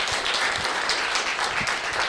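A brief burst of even, dense clapping from a lecture audience applauding a space company CEO at a summer school talk, steady and close.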